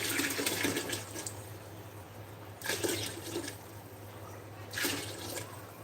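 Broth poured into a pot of Tuscan white bean soup, several separate gushing splashes of liquid, each a second or so long, with quiet pauses between them.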